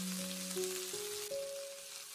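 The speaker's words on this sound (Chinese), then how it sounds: "充分的把干豆里面的水分炒干" Dried beans stir-frying in a wok until their moisture cooks off, giving a faint, steady sizzle with a soft tonal hum running underneath, with no voices.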